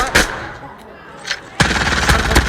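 Gunfire in a video game match, sharp shots cracking in bursts, quieter in the first half and then a dense loud volley near the end.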